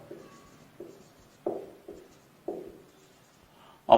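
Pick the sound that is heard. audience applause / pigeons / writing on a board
writing on a board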